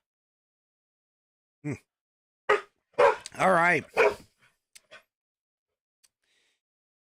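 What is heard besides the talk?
guard dog barking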